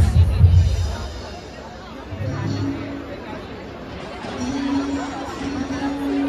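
Busy food court at CR Park Durga Puja in Delhi, a steady murmur of many voices and general chatter with occasional clatter, while someone talks in Hindi close by.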